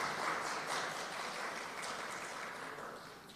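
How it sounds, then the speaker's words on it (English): Audience at a national health research conference applauds its oral and poster presenters, a steady wash of clapping that holds evenly and fades slightly toward the end. "we want to give a special round of applause to our 26 oral presenters and our 20"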